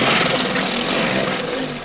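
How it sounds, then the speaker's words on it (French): A boat motor roars steadily at close range for an audio drama about a shark island, a dense, constant engine drone with no starting sputter, no breaks and no voices. "Allez, moteur en marche, on fonce."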